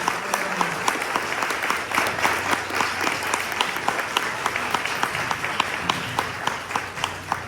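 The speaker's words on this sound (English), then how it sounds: "So would you please give them a wonderful round of applause?" Audience applause at a community gathering, steady and moderately loud, with a few distinct claps standing out from the crowd throughout.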